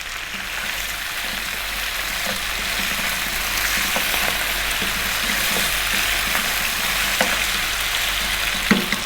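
Cumin seeds and fresh curry leaves sizzling in hot oil for an Indian mutton masala: a loud, dense, continuous crackle close by, with occasional sharper pops and faint stirring.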